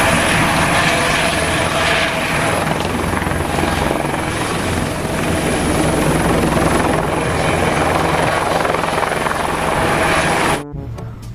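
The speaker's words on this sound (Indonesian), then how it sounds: "Di sini ada helikopter" A loud, steady toy helicopter rotor and engine drone, continuous and close, cutting off abruptly near the end.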